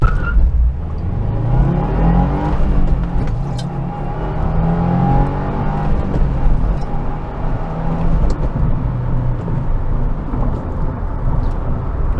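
A 2022 Subaru WRX launches hard from a stop and accelerates to 60 mph, its engine note climbing through the gears with rising and falling pitch sweeps, loud and close from inside the cabin.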